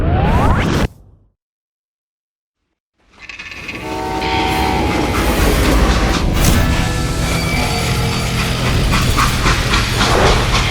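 A freight train in the Call of Juarez Gunslinger video game rumbles loudly along the rails after a brief silent gap, with a steady clattering roar, metallic squeals and a swoosh of passing wind.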